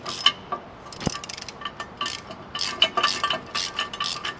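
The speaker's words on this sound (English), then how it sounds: "We're going to use a 15/16 socket and start getting these hand tight." A ratchet wrench with a 15/16 socket snugs down U-bolt nuts during a dual stabilizer install on a Ford Super Duty truck, giving repeated light clicking and metallic ticks in short bursts, close and fairly quiet, with no talk.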